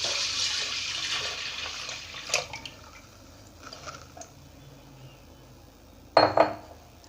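Milk pours steadily into a pressure cooker holding rice, a soft liquid stream that fades out, followed by a few light metallic clinks of the pot.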